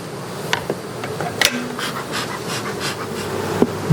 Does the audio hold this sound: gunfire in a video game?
no